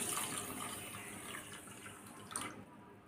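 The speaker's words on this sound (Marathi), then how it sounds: "एक वाटी पाणी टाकत आहे" Water pouring steadily into a pan of sugar to make sugar candy garlands, a soft continuous splash lasting a few seconds, fairly quiet and close.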